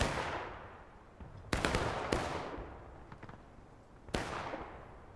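Musket volleys crack out in the Civil War game War of Rights, several sharp reports with long echoing decay, one distant shot followed by two loud close blasts and another later, over a rumbling battlefield background.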